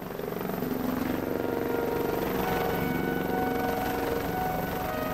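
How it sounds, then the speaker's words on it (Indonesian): A helicopter arrives over a landing area near Lake Toba, its engine and rotors making a steady, loud droning whir that holds throughout. "helikopter sudah terdengar suaranya di area lokasi pendaratan"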